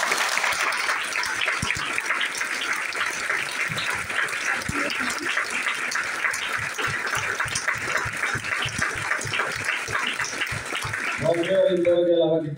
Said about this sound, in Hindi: इसके लिए इनके लिए और एक बार ताली बजाइए